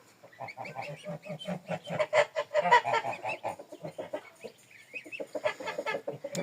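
A flock of Large Grey geese honks and chatters nearby in quick, overlapping calls, with higher peeping notes from goslings mixed in.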